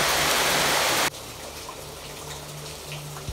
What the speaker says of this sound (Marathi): बघा, पावसाला सुरुवात पण झाली आहे, जरा जोरदार मोठा पाऊस पडतो।